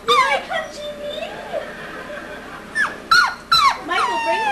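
A pug dog whimpers and whines in a series of high, wavering, squeaky cries, a long one at first and then several short rising yelps close by, over a steady low background hum.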